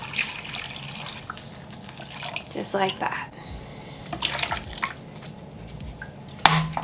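Water trickling and dripping into a pet tarantula's water dish, soft splashes and drips under quiet talking, with a sharper clink near the end.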